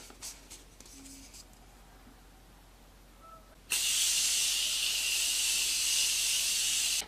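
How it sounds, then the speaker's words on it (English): A Morphe Continuous Setting Mist spray bottle releases one long, loud, steady hiss of fine mist that lasts several seconds, close up, following a few seconds of quiet room noise. "To set everything, I'm going to go with my Morphe Continuous Setting Mist"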